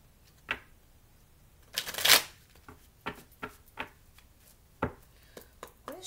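A tarot card deck is handled close by. There are repeated crisp riffling bursts and sharp card snaps, with one loud shuffle near the start and scattered slaps and flicks afterward.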